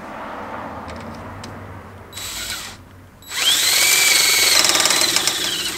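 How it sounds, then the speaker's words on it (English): A power drill whines briefly, pauses, then bites into a metal suspension bracket on a Toyota 4Runner with a loud, sustained high-pitched grinding that rises in intensity. "So we just have to drill out the bracket a little bit"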